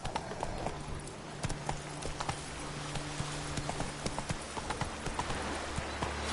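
Rapid, steady clip-clop of a horse galloping in a PS4 video game, the hoofbeats even and continuous under game background noise.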